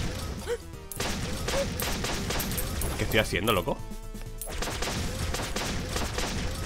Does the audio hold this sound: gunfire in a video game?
yes